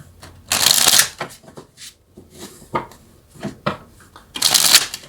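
Tarot cards are riffled and shuffled close up: two loud bursts of rapid flapping at start and end, with lighter taps and slides of the deck between them.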